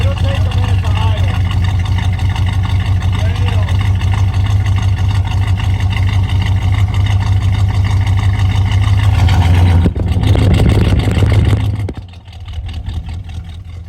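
A 1964 Chevy Corvette Stingray with a 327 V8 and an Edelbrock carburetor idles loud and close in a steady low rumble, with a brief rev near the end before the idle settles again.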